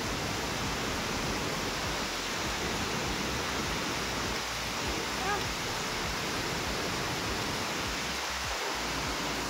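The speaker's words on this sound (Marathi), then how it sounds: "पाऊस फार जोराचा चालू आहे" Heavy rain in Pune from a balcony, a dense, loud, unbroken hiss of downpour filling the whole stretch, with no voices standing out.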